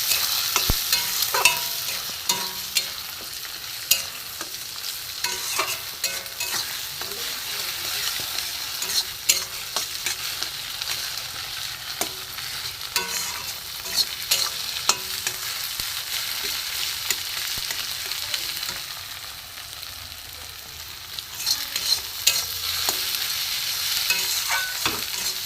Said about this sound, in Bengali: ডিম দুটো এর সাথে ভেজে নেবো।